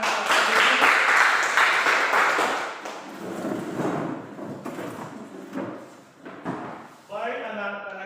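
Students clapping hands together in a classroom, a burst of loud group applause that thins into scattered claps before a teacher's voice takes over near the end.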